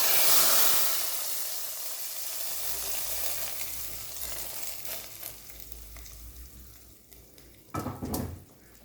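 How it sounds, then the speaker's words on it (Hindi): Hot oil sizzles loudly at first as tempering spices are fried for kadhi pakora, then settles into a steady crackling hiss, with a brief louder spatter near the end. "तो जल्दी से मैं इसको फ्राई कर लेती हूँ फिर तड़का डालती हूँ।"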